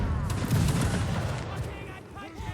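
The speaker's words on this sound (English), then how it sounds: "And now it's gonna end up into a volley right here." Musket volley in the Mount&Blade video game during a league match, a dense burst of overlapping shots rolling into a loud crackling roar, with voices talking over it.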